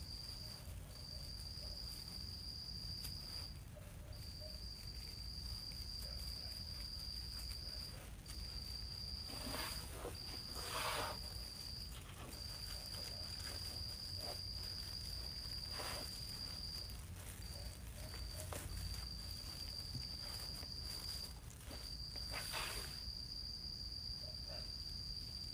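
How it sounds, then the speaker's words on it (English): Crickets chirp loudly at night in a steady, high trilling chorus that breaks off briefly now and then, with occasional soft rustles and thumps nearby. "The crickets are super loud tonight."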